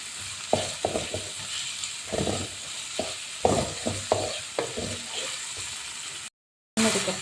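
Vegetables with a little salt sautéing in a pan for corn rava upma, a soft steady sizzle under repeated spoon scrapes and stirring taps at a moderate level, ending after a brief gap.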